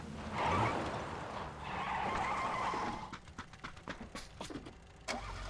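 A car skids with a rough, rising tire noise for about three seconds, followed by a run of quick clicks and rattles, moderately loud and close.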